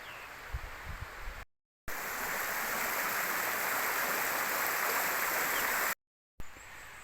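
A woodland river flows steadily in a broadband wash of water, loud and continuous, with brief gaps where the sound cuts out.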